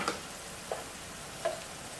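Salmon frying in a pan as oyster sauce is added, a soft, faint sizzle with three light taps or clicks spaced apart, no voices.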